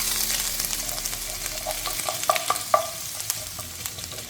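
Mustard seeds and ginger fry in hot sesame oil in a pan, a soft steady sizzle dotted with sharp popping crackles from the seeds, close and without any voices.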